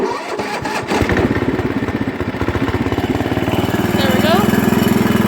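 The engine of a Sears ST16 garden tractor cranks a few times, catches, and settles into a loud, steady, close-up chugging idle, with a voice briefly heard over the machine.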